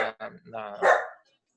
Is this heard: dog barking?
yes